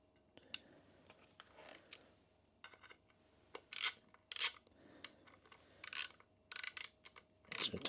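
Allen bolts, 5mm, being tightened by hand on a new stator during a Honda Blackbird charging system rebuild, giving sharp clicking, ratcheting bursts in irregular clusters, close and fairly quiet, with no talk.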